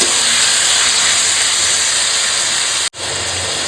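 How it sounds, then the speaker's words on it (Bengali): Tomato, salt and spices are sautéed in a pan for tilapia curry, a loud, steady frying hiss heard up close that breaks off abruptly for a moment near the end, then resumes. "সমস্ত কিছু কষাবো, টমেটোটা না যতক্ষণ গলছে কষিয়ে যাব।"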